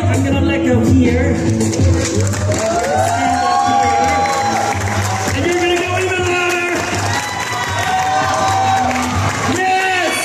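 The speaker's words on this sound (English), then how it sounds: "Audience, you better applaud really loud because this is amazing." An event crowd at a big splash show in Newport, 2023, keeps up loud sustained cheering, whooping and clapping, with children shouting among the noise.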